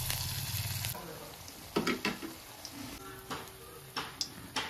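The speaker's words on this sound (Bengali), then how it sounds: "তাহলে ঝটপট করে এগুলো আমি এখন ভেজে নিই" Jackfruit fritters frying in hot oil give a soft steady sizzle, with occasional louder clinks and stirring taps over it, close by.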